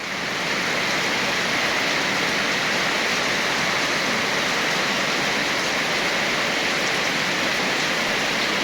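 Steady, dense roar of heavy rain pouring down during a storm, loud and unbroken throughout with no voices.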